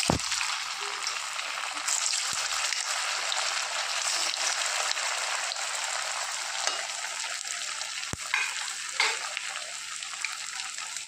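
Ney pathiri, a flat rice-flour flatbread from north Kerala, fries in hot oil with a steady, close hiss and crackle throughout, broken by a few sharp clicks of handling, with no voices.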